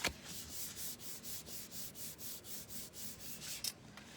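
Tape is rubbed firmly down onto a 1 1/4 inch paper strip for a handmade mini calendar card. Soft, close, rhythmic rubbing strokes repeat steadily about every half second.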